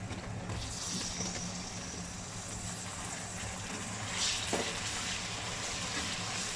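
Tomatoes go into a pan of sizzling ginger-garlic masala, a steady close frying hiss with a low hum underneath and a slight swell near the end.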